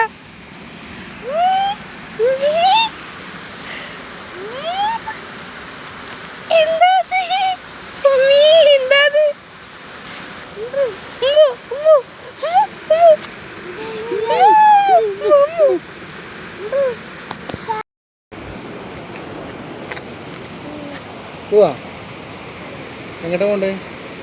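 A river flows with a steady broadband rush beneath a child's high, sing-song speech and other voices that come and go, close and fairly loud, with one brief dropout near the end.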